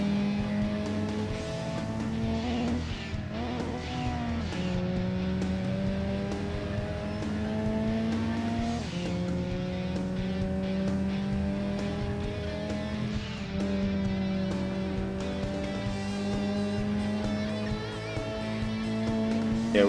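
A race car of over 400 PS lapping Laguna Seca in Gran Turismo 2, its engine droning loudly and steadily with repeated rising rev sweeps between gear shifts, alone without talk.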